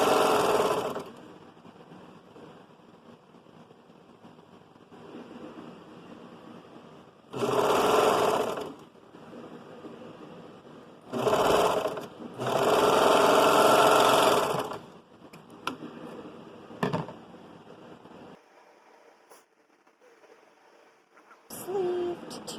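A sewing machine stitches a cowgirl costume sleeve to both layers of the back, running in several short, loud bursts separated by quieter pauses with faint handling noises.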